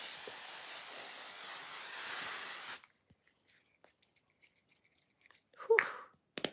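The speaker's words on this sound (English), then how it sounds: "This is from L'Oreal, and it's a setting spray that proper holds." A L'Oreal setting spray mists steadily onto a face in one long, close, hissing burst of about three seconds. Near silence follows with small clicks, then a short audible exhale.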